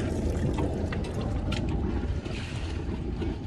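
Water from a sailboat engine's water pump splashes and gushes steadily out over the side, a continuous close wash of water with engine rumble beneath, no talking.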